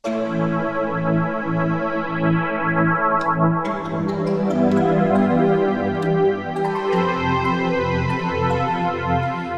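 A lush, sustained synth pad built from santoor samples, with a shimmering, metallic struck-string character, chords shifting slowly under bright flickering overtones, steady and fairly loud.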